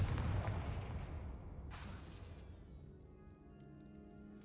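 Confringo fire spell cast in Hogwarts Legacy, a loud blasting burst at the start that decays into a fading rumble, with a second sharp impact near the end.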